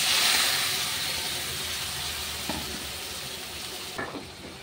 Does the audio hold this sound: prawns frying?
yes